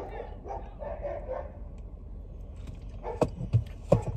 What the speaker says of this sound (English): y'all hear the dogs barking probably.